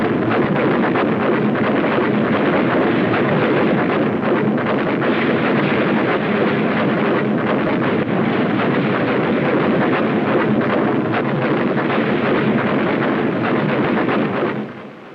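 A destroyer's naval guns fire during a shore bombardment in a 1960s archive recording, a dense, sustained roar of rumbling blasts that continues without pause until it fades at the end.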